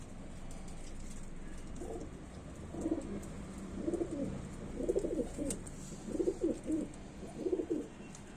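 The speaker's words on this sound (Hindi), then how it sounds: "एक ये है संबल का, मोटी खोपड़ी का कबूतर।" Thick-headed Sambhal breed pigeons coo in a run of soft, rounded calls that rise from a steady low background, repeating in clusters about once a second and growing slightly fuller toward the end.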